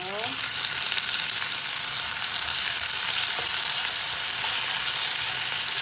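Garlic, onion and tomato fry in a pan for mongo, a loud, steady close sizzle with faint stirring, no talking over it.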